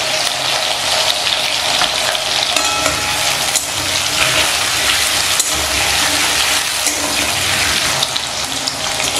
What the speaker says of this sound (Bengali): তাই 2 মিনিট ধরে আলু আমি ভেজে নিচ্ছি।